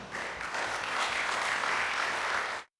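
Audience clapping in a hall, a dense wash of applause held steady for a few seconds, then cut off sharply.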